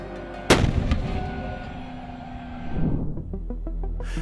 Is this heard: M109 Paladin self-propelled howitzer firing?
yes